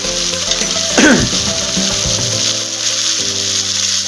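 Pangas fish and potatoes fry in a pan with salt added, a steady broadband sizzle running throughout, with a brief louder scrape of stirring near the middle and low clattering under it.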